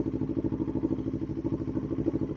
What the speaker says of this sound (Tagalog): Papainit lang muna tayo ng motor.